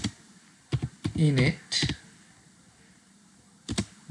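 Keys clicking on a computer keyboard as a command is typed, a few quick taps around a short spoken word, then a brief burst of clicks near the end.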